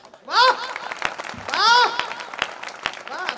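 A voice chants a Hindi poem in a rising and falling melody at a poetry gathering while sharp hand claps land at a fairly regular beat underneath.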